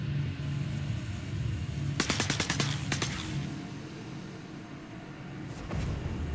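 Gunfire in the PC space game Star Citizen Alpha 2.5: a quick rattling burst of about ten shots over a low ambient hum, then one or two faint distant shots.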